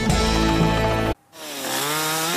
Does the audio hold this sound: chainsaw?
yes